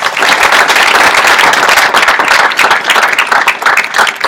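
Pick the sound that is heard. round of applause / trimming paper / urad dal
round of applause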